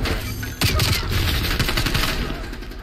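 Rapid overlapping gunfire in Black Ops Cold War multiplayer, a dense burst of sharp cracks starting abruptly and continuing as a chattering volley for a few seconds amid game noise.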